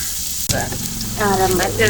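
Tomatoes drop into a hot pan and fry with a sharp sizzle for biriyani, a sudden burst followed by continuous crackling with faint voices in the background.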